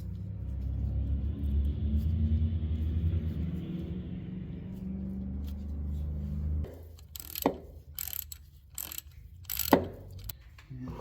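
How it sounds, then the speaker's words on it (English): A ratchet wrench snugs bolts on a Nissan 200SX transmission during clutch and transmission installation, giving several sharp, close clicking bursts in the second half after a steady low mechanical rumble. "Put a wrench on there just to make sure that's good and snug."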